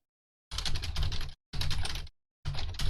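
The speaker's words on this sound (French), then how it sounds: "quand je tape sur mon clavier comme un fou, ça fait ça" Three loud bursts of rapid, clattering keystrokes on a computer keyboard, separated by short silences.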